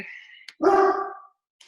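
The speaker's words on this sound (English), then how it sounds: "oh, there's my dog" A dog lets out one loud, close bark after faint background talk, followed by silence.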